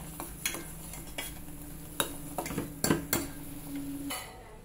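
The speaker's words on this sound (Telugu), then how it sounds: "సగ్గు బియ్యం బాగా ఉడకాలి." Sago pearls cooking in a pot with cardamom, heard as soft bubbling and simmering with intermittent spoon scrapes and clinks against the pot, quiet and close, no talking.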